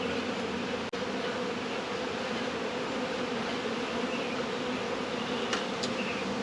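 Dense, steady droning hum of many honeybees at an opened hive, close and continuous for several seconds, with no speech over it.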